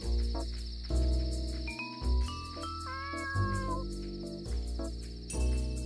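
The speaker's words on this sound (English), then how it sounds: "We have a cat family in the bar now." Cats meow repeatedly in the bar of the video game Dave the Diver, several drawn-out rising and falling cries over steady looping game music.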